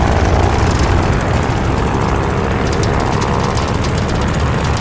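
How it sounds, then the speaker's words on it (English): Warplane propeller engine running up in Call of Duty Vanguard at a Midway airfield, a loud steady droning roar with a throbbing beat, close and sustained throughout. "do an engine run-up. Make sure she doesn't blow out."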